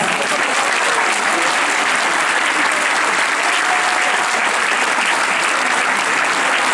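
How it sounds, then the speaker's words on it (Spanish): Loud, dense applause from a large audience at a 37th anniversary celebration, an unbroken roar of many hands clapping at close range that continues evenly from start to finish. "El último aplauso para ustedes"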